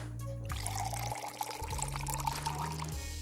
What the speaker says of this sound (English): I'll pour milk right into the cereal package.